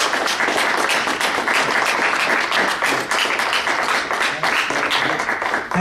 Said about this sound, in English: If we could have another round of applause of thanks.